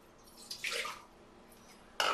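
Water poured from a cup into a pot for eclair choux shells, heard as a short splashing pour near the microphone, followed by a second brief splash at the end.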